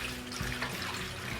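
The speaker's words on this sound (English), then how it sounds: "All right, Slippers, hold the funnel while I pour the acetone in there." Acetone poured through a funnel into a motorcycle gas tank, a steady close liquid gurgle and trickle running throughout.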